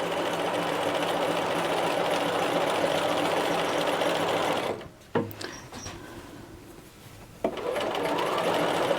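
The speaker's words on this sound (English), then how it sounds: "we're just going to do a quick basting stitch around" A sewing machine runs a basting stitch around a knit sleeve cuff, humming fast and steady up close, stopping for a few seconds with a couple of clicks, then starting up again.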